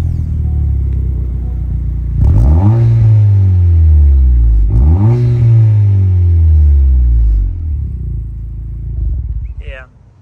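A 2022 Honda Civic Si fitted with a 27WON exhaust gives two deep, loud revs that rise and fall back to a low rumbling idle, close by, with a brief voice near the end.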